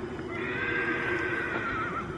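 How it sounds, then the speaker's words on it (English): A horse whinnies in a long, loud neigh at close range, with faint hoofbeats clip-clopping underneath and no voices. "He is definitely Gabby's horse."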